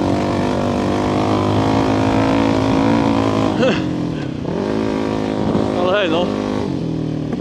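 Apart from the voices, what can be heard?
VOGE 300 Rally motorcycle engine revving off-road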